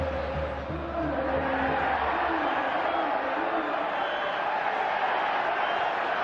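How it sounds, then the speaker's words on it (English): A packed football stadium crowd at a Real Madrid versus Barcelona La Liga match roars and bays in a sustained wall of noise, with a commentator speaking over it. "Crowd wanting a free kick against Busquets"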